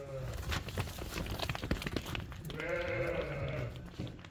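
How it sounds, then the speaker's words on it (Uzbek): Several ewes bleat close by against a busy farmyard background, with one drawn-out, wavering bleat toward the end. "Mana qo'ylar qaranglar"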